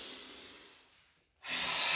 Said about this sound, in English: Catch your breath. In through nose, out through mouth.